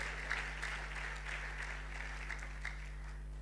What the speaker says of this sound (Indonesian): Tepuk tangannya yang lebih meriah buat Tuhan kita.